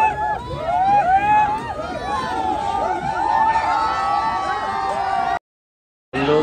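A large crowd chatters at Central Park in Connaught Place, Delhi, a dense outdoor babble of many voices that stays steady and busy before cutting out abruptly near the end.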